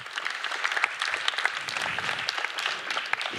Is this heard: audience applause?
yes